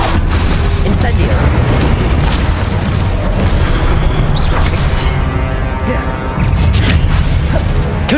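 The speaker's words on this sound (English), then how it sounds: "Incendio!" Fiery spell blasts from Hogwarts Legacy combat, loud and continuous booming bursts crashing over a dense game soundscape, with several sharp impacts punctuating the roar.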